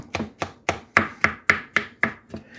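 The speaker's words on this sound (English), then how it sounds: "I'm going to chop those down a little bit" Soft-cooked vegetables chopped with a knife on a board, about nine evenly paced, close chops in a steady rhythm, each a crisp thud with a brief ringing edge, no voices.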